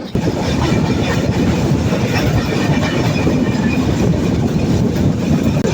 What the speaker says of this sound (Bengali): আমরা এখন প্রবেশ করছি ভাঙ্গা রেল স্টেশনে